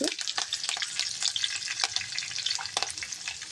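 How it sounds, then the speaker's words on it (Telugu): Crackling sizzle of seeds dropped into hot oil, a dense spattering hiss with sharp pops and bursts throughout, close and steady, no talking. "ఆయిల్ అయితే వేడైంది అందులోకి అయితే పోపు గింజలు వేస్తున్నాను"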